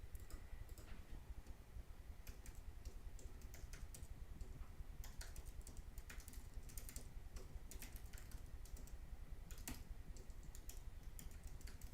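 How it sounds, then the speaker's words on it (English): Someone types steadily on a computer keyboard, a quiet, continuous patter of small key clicks with occasional sharper taps, close and alone, with no talking. "I'm going to type on the chat and see."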